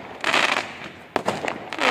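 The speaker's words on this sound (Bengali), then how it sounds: "এই আতশবাজি যতই দেখি ততই ভালো লাগে।" Fireworks bursting in the sky on Bonfire Night in the UK: loud crackling explosions and sharp bangs come in quick succession, with a brief lull before another burst of pops and crackles.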